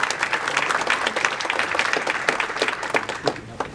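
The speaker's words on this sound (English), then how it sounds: "So big round of applause for all of our sponsors." A conference crowd at WORKTECH New York gives its sponsors a round of applause, filling the room with close, steady clapping from start to finish.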